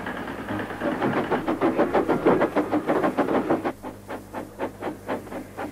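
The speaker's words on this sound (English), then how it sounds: "a tractor was hard at work as Thomas puffed along." Steam engine train puffing along in rhythmic chuffs, rapid and loud at first, then easing into slower, softer beats with a faint steady rumble behind.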